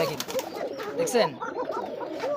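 Koka pigeons coo repeatedly in soft, rolling phrases on a farm, several birds overlapping close by while someone talks over them.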